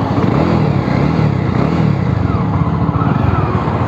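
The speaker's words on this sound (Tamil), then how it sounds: "ஸோ எக்ஸாஸ்ட் நோட் பார்த்தீங்கன்னா நல்லாயிருக்கு," Exhaust note of a Jawa 42 BS6 motorcycle, a close, steady mid-low engine thrum with slight rises in revs throughout, heard alone without talk.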